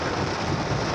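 Heavy rain with rumbling thunder outdoors in Jeddah, a dense, continuous wash of noise with low rolling rumble and some wind buffeting on the microphone, steady throughout the short stretch.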